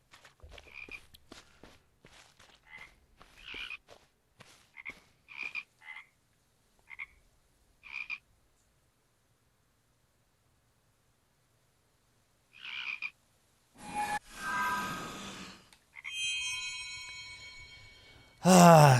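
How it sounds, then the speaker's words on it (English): Frogs croak in a video game, a series of short separate croaks spaced through quiet stretches, followed later by bursts of louder game music and noise. "Ooh, frogs."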